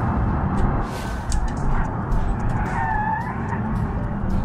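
Race car in BeamNG.Drive roars steadily through a lap, tires skidding and squealing across the middle, loud and continuous under a steady engine drone.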